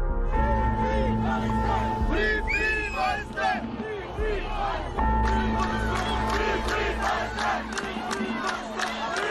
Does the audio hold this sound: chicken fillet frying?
no